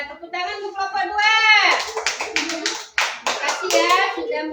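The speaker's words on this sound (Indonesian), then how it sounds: "tepuk tangan untuk kelompok 2" A classroom group claps together in quick, steady rhythm, bright hand slaps overlapping with children's voices talking and calling out throughout.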